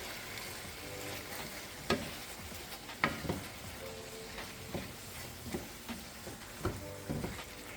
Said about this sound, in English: now we're just going to stir that in and just let the basil wilt